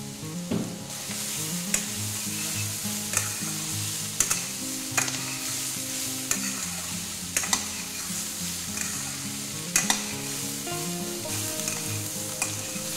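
Sliced snake gourd with onion and poppy seeds frying in a pan, a steady soft sizzle broken by sharp scrapes and clinks of a spatula stirring at irregular intervals, close up with no voices.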